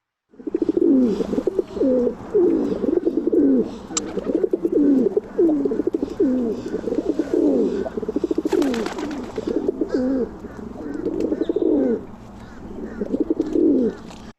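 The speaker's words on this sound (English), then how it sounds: "So this recording is actually just a bunch of pigeons doing this call." A flock of pigeons coos steadily and close by, a dense run of repeated low, throaty coos overlapping without pause, with a brief flutter or rustle partway through.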